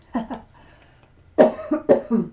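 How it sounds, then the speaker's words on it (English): Four short coughs, close and fairly loud: two quick ones, a brief pause with faint background, then two more in succession. "My famous little cough during the reading."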